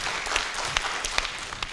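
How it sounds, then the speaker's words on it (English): Brief, light clapping from a seminar audience after a charity fundraising announcement, a few sparse claps over a quiet room. "So give yourselves a big round of applause."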